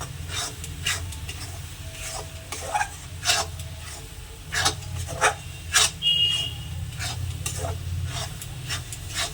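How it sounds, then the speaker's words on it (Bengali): A mung dal mixture for naru is stirred and scraped in a pan, a steady rasping with louder spoon scrapes at intervals over a constant low hum. "যতক্ষণ না এটা একটু আঠা আঠা ভাব আসছে, ততক্ষণ আমি এটা নাড়তে থাকবো।"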